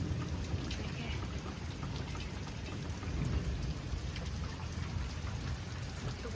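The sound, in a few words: heavy rain in village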